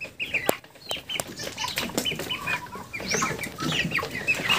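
Thirty-five-day-old broiler chickens cluck and squawk inside an old coop, with repeated sharp bursts of wing flapping scattered throughout, nearby and moderately loud.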